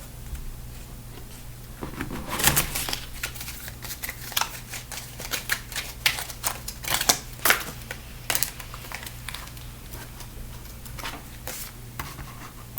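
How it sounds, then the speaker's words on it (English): Cards are riffled and shuffled in several quick bursts, with crisp flapping and snapping sounds against a quiet background hum. "So I'm going to shuffle this deck"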